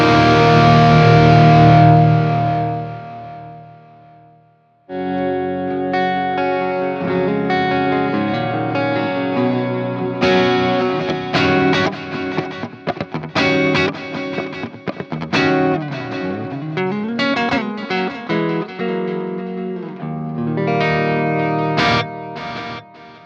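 Electric guitar played with the volume knob fully open sounds loud and distorted with delay repeats, giving sustained chords and lead phrases with echoing tails. A brief fading tone comes first, then a short gap, then steady playing with bends and slides.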